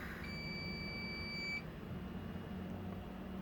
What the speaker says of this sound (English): I have an alarm going off.